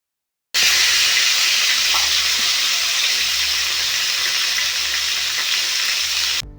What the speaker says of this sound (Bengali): সেই কড়াইয়ে তেল দিয়ে তেজপাতা ফোড়ন দিয়ে কেটে রাখা টমেটোগুলোকে ওই কড়াইয়ের মধ্যে দিয়ে দিতে হবে